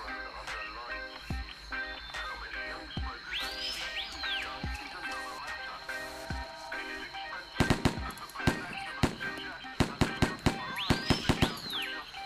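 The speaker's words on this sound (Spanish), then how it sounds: "le he metido unos cuantos tiros y yo creo que se está desangrando" Sharp gunshots crack in scattered bursts, sparse at first and then in rapid clusters, over a steady electronic background with occasional rising whooshes, in the video game DayZ on the Lingor map.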